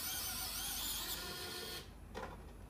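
A cordless electric screwdriver with its torque set to six drives a large machine screw, whirring steadily and loudly, then its clutch slips and the tone drops to a lighter spinning rattle near the end.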